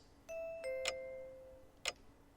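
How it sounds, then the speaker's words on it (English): Doorbell chime in the visual novel game Fate/Stay Night, a clear two-tone ding-dong followed by a couple of sharp clicks, quiet and isolated against near silence. "the doorbell rings"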